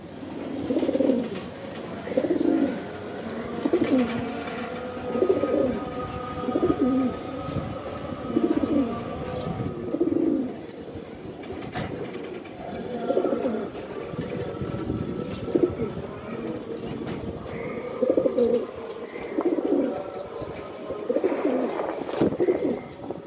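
Giribaz pigeons coo in a steady, repeated low rhythm nearby, with faint background noise throughout.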